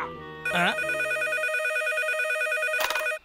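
In a Hindi cartoon, a brief voice is followed by a bright, trilling electronic phone ring that repeats steadily for nearly three seconds before cutting off.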